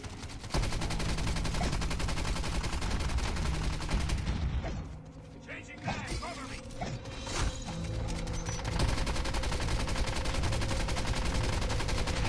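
Automated turret fire in Call of Duty Mobile zombies mode, a steady dense stream of shots running loud almost throughout, briefly thinning midway before picking back up, with game effects layered underneath.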